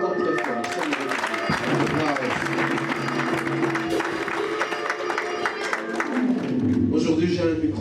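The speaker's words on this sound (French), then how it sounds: "On acclame encore très fort." A church congregation applauds loudly, with sustained clapping and crowd noise mixed with voices and music.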